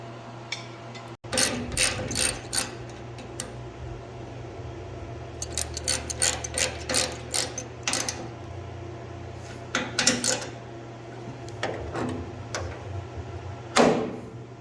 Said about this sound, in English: I just tapped it with a 5/16 tap